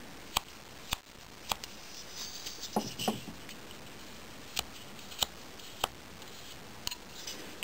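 Scissors cut material for a leprechaun craft, a series of crisp, close snips at uneven intervals over a quiet room background.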